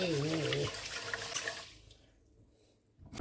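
Water splashes and pours in a bowl as rice is rinsed for a Cuban picadillo dinner, a close, gurgling wash with someone talking over it, then near silence before a short burst of water at the end.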